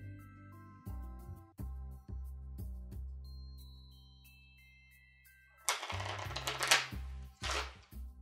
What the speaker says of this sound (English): I'm actually going to shuffle it up